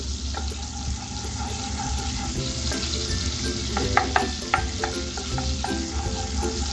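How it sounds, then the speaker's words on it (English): Butter melts gently in a hot pan with a steady, close sizzle and frying crackle, small pops scattered through it, loud and continuous with no talking. "we will allow the butter to melt gently"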